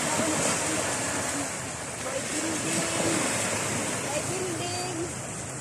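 Continuous rushing surf washes in a steady broadband roar, with faint voices and chirps barely audible underneath.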